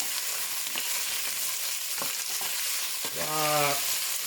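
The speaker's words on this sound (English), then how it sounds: "So I'm basically going to saute them down a little bit." Carrots sautéing in a little oil in a pan give a steady, close hiss of sizzling with occasional light clicks from stirring and a brief squeaky tone near the end.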